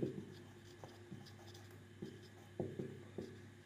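Chalk or marker scratching out short strokes on a board during a Bengali-language class 9 algebra lesson on rules of indices, a few quiet, faint scrapes spaced irregularly with no talk.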